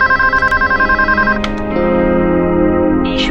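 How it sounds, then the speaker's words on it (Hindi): A telephone rings as a call is placed, giving a rapid, loud, pulsing electronic ring for over a second, then switching to a steady tone with a short chime near the end. "फोन लगाती हूँ"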